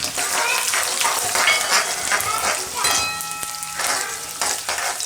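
Chillies and cashew pieces frying in a pan for Gujarati orange rice, a loud, continuous close sizzle with faint stirring scrapes underneath.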